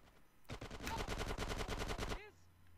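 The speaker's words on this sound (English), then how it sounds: "I'd use a machine gun" A machine gun fires one rapid, continuous burst of about sixteen shots in the video game GTA San Andreas, loud and close, then cuts off sharply.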